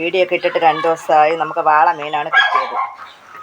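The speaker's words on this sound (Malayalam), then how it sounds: "ഇപ്പുറത്തെ പട്ടി കുരയ്ക്കുന്നു." A neighbour's dog barks in short bursts close by, partly buried under steady nearby talking.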